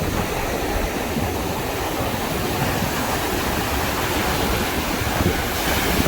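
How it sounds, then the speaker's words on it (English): Continuous ocean surf rolls in beside a campground at sunset, a loud, steady broadband wash of breaking waves with no pause or talk. "there's the ocean"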